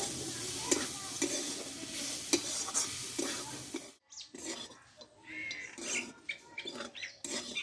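Radish greens are stir-fried in a pan with a loud continuous sizzle and scraping stirs for about four seconds, then quieter, choppier stirring and clatter follow.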